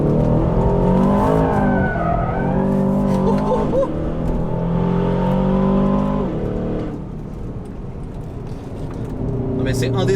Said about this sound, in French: Voilà, j'envoie la voiture, léger frein, léger sous-virage, hop là.